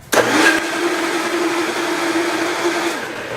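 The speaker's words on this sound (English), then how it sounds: "I like to blend that first because what I'm trying to do is create that coconut milk" Blender whirring through coconut meat and coconut water, starting abruptly with a sharp burst then holding a steady loud motor hum for about three seconds before cutting off.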